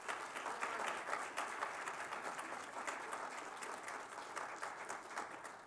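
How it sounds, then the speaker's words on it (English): Quiet, distant-sounding applause from an audience at a New York City Council district community address ripples on steadily as a continuous soft patter of many hands, with no speech over it. "If we can give her one more round of applause,"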